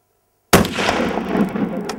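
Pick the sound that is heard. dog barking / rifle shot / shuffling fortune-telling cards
rifle shot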